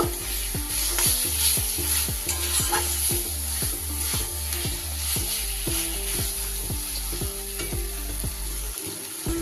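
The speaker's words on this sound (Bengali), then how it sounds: "এবার আমি এর উপরে ভেজে রাখা আলুগুলো দিয়ে দেব। আলুগুলো দিয়ে ভালো করে মিশিয়ে নেব।" A spatula stirs fried potatoes into prawn curry in a pan in a steady, rhythmic series of scrapes over a constant loud sizzle of frying oil, close up and with no voices.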